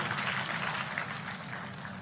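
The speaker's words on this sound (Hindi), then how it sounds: "यशस्वी प्रभारी जी के लिए भी जोरदार तालियां महेंद्र सिंह जी के लिए" A crowd at a BJP party gathering in Madhya Pradesh claps for an organizer, a dense, steady wash of applause that fills the room evenly, with no voices above it.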